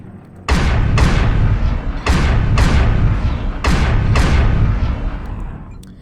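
Inner Sphere ballistic autocannons from MechWarrior Online fire in chain fire, delivering six heavy, booming shots at a steady rhythm of roughly one every half second to a second, loud and close with a rumbling tail after each.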